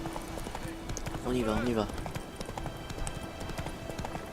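Horse hooves gallop in The Witcher 3 video game, a steady clip-clop running continuously beneath someone speaking French briefly over it.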